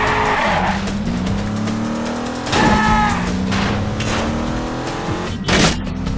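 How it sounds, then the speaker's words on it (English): Cars smash into one another in a driving video game: steady engine drone and squealing tires, broken by two or three sharp crash bursts. "It is satisfying to like smash into all these other cars with your car, for sure."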